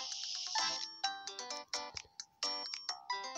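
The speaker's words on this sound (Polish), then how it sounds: "I dopiero teraz jest telefon." Ringing telephone in the video game Papa's Pastaria To Go, a bright electronic ringtone melody of rapid repeated notes playing steadily for several seconds, clear and alone without talk.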